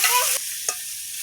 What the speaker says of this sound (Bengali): ভালোভাবে ভেজে নেবো একটু